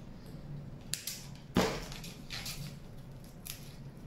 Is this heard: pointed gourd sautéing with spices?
no